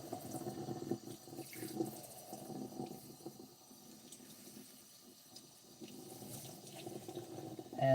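Cool water runs steadily from a tap while a doll's wig is rinsed, a low continuous splashing flow that dips slightly midway and swells again near the end, with no talking.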